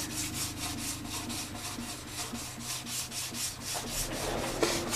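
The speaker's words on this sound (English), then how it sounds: "try the sandpaper on her now" Sandpaper rubs back and forth over a cracked wooden guitar fretboard in quick, even strokes about three per second, close and soft, with a slight knock near the end.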